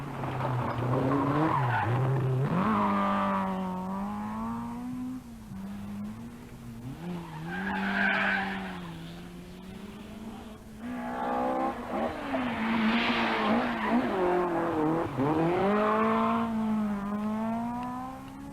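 Rally cars from the 1983 Cork 20 Rally tearing along a stage, engines rising and falling through gear changes with tyre scrabble, two distinct passes close by and loud, no talk.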